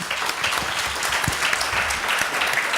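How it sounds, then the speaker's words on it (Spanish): An audience at a university conference on populism claps in a thick, continuous burst, close and loud, with faint crowd murmur underneath. "yo me sumo a los aplausos"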